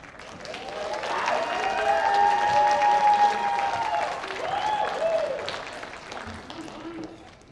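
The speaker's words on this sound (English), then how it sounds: "let's give them a loud round of applause to the Rhode Island College Dance" An audience applauds the Rhode Island College Dance Company, a loud sustained wash of clapping that swells, dips briefly and rises again before tapering off.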